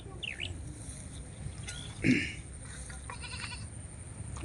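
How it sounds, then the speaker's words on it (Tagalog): Faint rural outdoor ambience on a farm with a short goat bleat near the middle and a distant chirp early on. "ayan na mga kambing oh"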